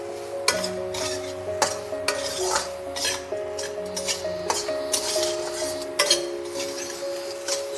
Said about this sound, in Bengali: সয়াবিনগুলো আমি একটু লাল করে ভেজে নিচ্ছি